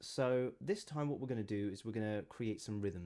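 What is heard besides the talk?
No distinct noise like a dog, phone or traffic.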